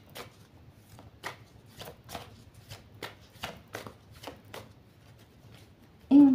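Tarot cards are riffled and shuffled by hand, a quick run of crisp flicking bursts in an uneven rhythm, close and soft, ending with a sudden louder thump.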